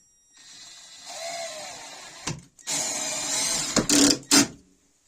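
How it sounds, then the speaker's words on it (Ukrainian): A cordless screwdriver drives self-tapping screws into a homemade lathe setup on a table edge, giving several short whirring bursts that rise in pitch, followed by a couple of brief bursts as the screws seat. "Ось саморези прикручуємо."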